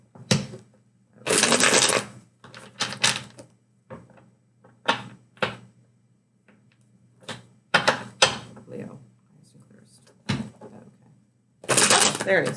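Tarot cards are shuffled in repeated loud riffling bursts at close range, separated by pauses and light handling clatter, with a voice speaking briefly in between.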